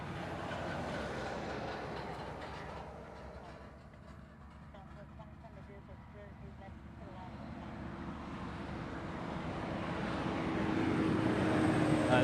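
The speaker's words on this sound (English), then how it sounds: "Alright, we got fighters going now." F-22 fighter jets taxiing at Honolulu airport, a faint distant jet-engine rumble and whine that slowly builds louder, with people talking over it.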